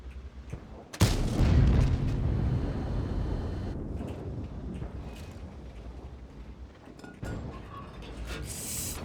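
A single heavy boom from the Kunze Panzer tank's gun in World of Tanks, loud and sudden, followed by a long rumbling tail and low ambient battlefield noise.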